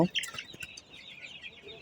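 Sick hens suffering from dysentery cluck and chirp softly nearby, a steady low murmur with a few brighter peeps.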